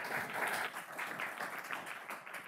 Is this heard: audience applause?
yes